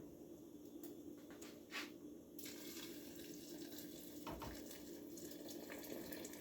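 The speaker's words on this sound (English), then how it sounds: "I'm gonna cover this with water." Water runs steadily into a cooking pot of white beans with cabbage, meat and chouriço, a continuous faint splashing flow from start to finish.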